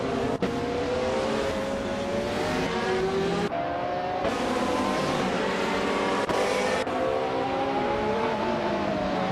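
Race cars roar continuously at close range, several engines layered with rising and falling pitch as they accelerate through gears, with brief gaps between upshifts and a steady loud wash of engine noise throughout.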